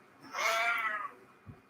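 A pet cat gives one clear, rising and falling meow, close and fairly loud in a quiet room, followed by a faint soft thump.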